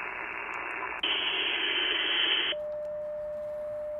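Amateur radio receiver tuned on the 40 meter band with a homemade balloon and floral-wire antenna, loud steady static hiss that jumps louder, then drops to quieter noise with a thin steady tone.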